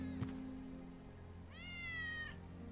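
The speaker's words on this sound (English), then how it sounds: "That's Wedge's cat." Wedge's cat in Final Fantasy VII Remake lets out a single drawn-out meow over a steady rainy, humming background.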